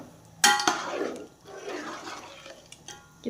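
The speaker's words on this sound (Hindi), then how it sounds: "तो इसमें अब हम पानी डालेंगे।" Water poured into a pot of soaked rice for chicken pulao, starting with a sudden splash and then a gurgling, fading pour, with small clinks of pot and utensils at the end.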